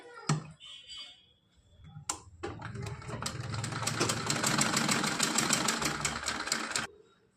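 A sewing machine stitches a round seam on cloth for a designer outfit for a Kanha ji idol. A few brief knocks come first, then the motor starts and whirs steadily with rapid stitching for several seconds before stopping abruptly.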